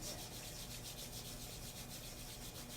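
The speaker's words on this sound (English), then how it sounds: "And rubbing the hands together to create some heat." Palms rub briskly together to make warmth, a close, quiet, rhythmic swishing friction repeating evenly for a few seconds with no speech.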